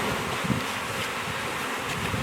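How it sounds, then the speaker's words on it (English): Nurse bees in a queen-grafting box give off a steady, even buzz close by, a dense insect drone that holds throughout with no pauses and no voices. "I go through a lot of effort to try and just get nurse bees."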